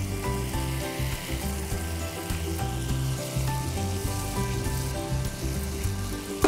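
Tomato and onion cooking in a pan for tomato saar, with a quiet, steady sizzle and occasional light stirring, and no voices.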